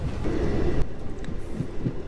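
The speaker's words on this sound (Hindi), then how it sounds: "तो ये लोकल ट्रेन ही DMU ट्रेन है" A DMU local train runs along the rails from India toward Nepal, a steady low rumble and rattle heard from inside the carriage, with a brief clatter partway through and no talk.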